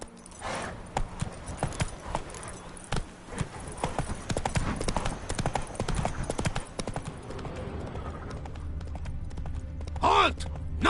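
Roach, Geralt's horse in The Witcher 3, clip-clops along in a steady rhythm of close hoofbeats, with a voice speaking over them and a brief snort near the end.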